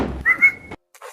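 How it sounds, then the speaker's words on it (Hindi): A person gives a single short, shrill whistle, a sustained high tone lasting about half a second, followed by a soft thump and brief silence. "मुझे सीटी मारियो पहले"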